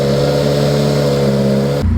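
A BMW E30 fitted with a Valvetronic exhaust revs up close by, holding a loud, steady droning engine note before cutting off abruptly near the end, with no talking.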